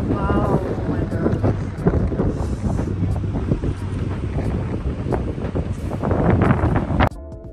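Strong wind buffets a boat out on the water, with a loud, constant roaring gust and rumble across the microphone, and a voice briefly heard over it.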